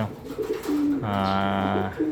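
Racing pigeons coo close by, a low throaty rolling call repeated with a brief pause between phrases.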